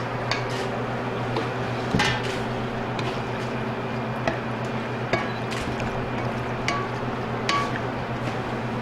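Pasta being tossed with sauce in a pan in a home kitchen, with scattered metallic clinks and scrapes of a utensil against the pan over a steady background hum.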